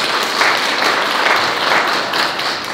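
An audience at a volunteer day ceremony in Eunpyeong, Seoul, gives a big round of applause for the district council chair and two lawmakers, a dense, even wash of clapping with no talk.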